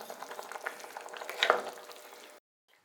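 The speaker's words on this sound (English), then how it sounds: "it's gonna simmer for 20 minutes and infuse all those incredible" Tomato basil soup made with chicken stock simmering in a pot, a steady close bubbling and sizzling hiss with a brief louder burst midway, then stopping abruptly into silence.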